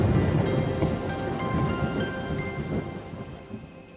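Heavy rain pours down in a dense, steady hiss while low thunder rumbles underneath, loud and continuous throughout with no voices.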